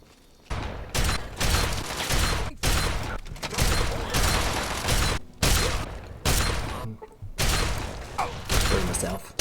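Rapid, dense bursts of gunfire in the video game Fallout 3 crackle almost nonstop with a few short gaps, loud and close, while a voice talks over the shooting.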